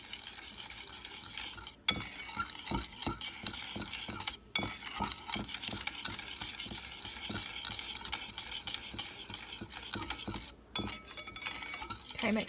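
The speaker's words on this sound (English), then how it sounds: "we're going to whisk this until it's all combined" A whisk beats salad dressing with garlic powder and Dijon mustard in a bowl, giving a quick, steady run of soft metallic clicks and swishes at close range, with a few brief pauses.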